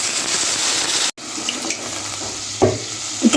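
Water is poured into a pan of fried sawaiyan vermicelli, a continuous hissing splash that cuts off briefly, then resumes with a few soft clunks nearby.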